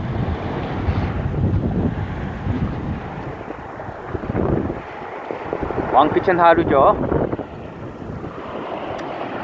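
Gusty wind buffets the microphone at the mouth of the lower Wangpicheon river in Uljin, near the beach, a steady rough roar with stronger gusts throughout while someone talks over it.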